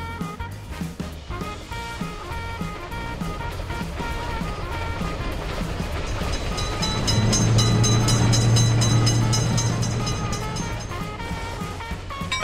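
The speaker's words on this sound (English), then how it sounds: "Attention, train is coming." A train rumbles steadily past a railroad crossing with rhythmic wheel clatter, a sustained horn blast swelling in the middle, loud and close without any talking.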